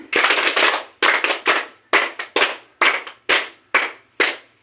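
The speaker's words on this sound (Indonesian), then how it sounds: "kita tutup permainan kita dengan 10 tepuk tangan" A group at a village PKK counselling session claps in unison about ten times, each sharp, loud collective clap sounding alone with brief, even gaps and a few quick doubled strikes.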